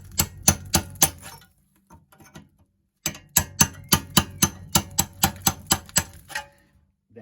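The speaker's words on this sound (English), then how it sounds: "I'm just going to chisel down this last bit here" A chisel is hammered against the old splash guard on a VW Polo MK2 brake, giving sharp, evenly spaced metallic strikes in two bursts, a handful first, then about a dozen after a short pause.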